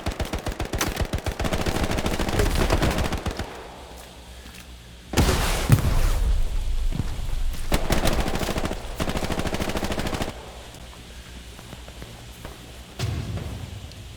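Bursts of machine gun fire crackle through a World War II battlefield in the game Hell Let Loose, dense rapid volleys at the start, then further loud stretches after quieter gaps, with distant shots in between.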